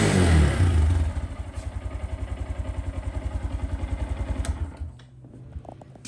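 A Honda Grom motorcycle's exhaust blips loudly at first, then settles into a steady, close, rhythmic putt-putt idle that fades near the end.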